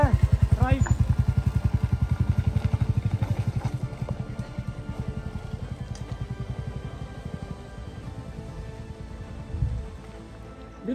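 A vehicle drives over a potholed mountain road between Khajjiyar and Chamba, its engine thrumming steadily with a pulsing rhythm that slowly fades, and faint bumps and rattles under a voice.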